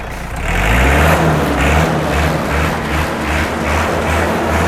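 A heavy diesel engine of a 2018 Iseki 54-horsepower tractor revs loudly and close, rising and holding at high revs with a rhythmic throbbing pulse, no talking.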